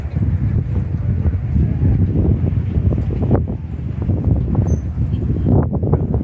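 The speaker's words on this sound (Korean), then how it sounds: "바람 장난 아닙니다" Strong wind buffets the microphone outdoors at a ceremonial site in China, a loud, continuous rumbling roar with gusty surges throughout.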